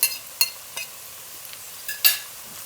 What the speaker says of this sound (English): Then fry till the brown again